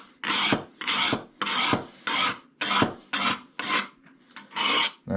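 Scissors are sharpened on a stone in about eight distinct gritty strokes, each a short close rasp separated by brief pauses in a steady back-and-forth rhythm. No one speaks.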